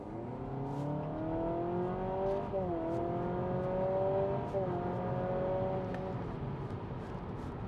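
A new Honda Civic accelerating from low speed with simulated gear changes: a rising engine-like tone climbs, drops abruptly at each shift, then climbs again, repeating twice over a steady road and cabin hum.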